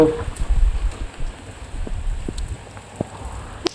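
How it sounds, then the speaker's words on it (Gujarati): Light rain falls outdoors at night, a soft low rumble broken by scattered, isolated drips landing on surfaces nearby. "બોલો વરસાદ થોડોક મોરો પડ્યો,"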